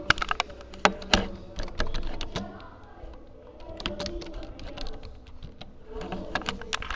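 Someone types a file name on a computer keyboard, sharp irregular key clicks in quick bursts with short pauses, close and fairly quiet.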